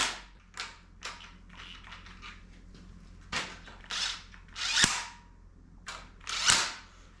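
Several short bursts from an impact gun running ARP head studs down lightly on a 5.3 LS engine top end, sharp and close, spaced apart with quiet gaps between.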